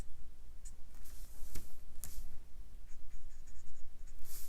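A Copic marker in cool gray colours a Superman drawing on paper, heard as close, quick squeaky strokes and scratches in short bursts with small pauses between them, alone without talk.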